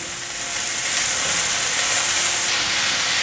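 Dried tofu and beech mushrooms stir-frying in a hot wok give a steady, loud, bright sizzle that holds evenly for a few seconds with no voices.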